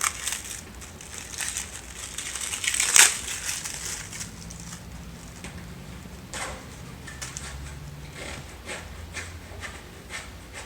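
Crumpled paper towels are rummaged through inside a plant shipping box, a close, steady crinkling and rustling with one sharper crackle early on and softer handling afterward.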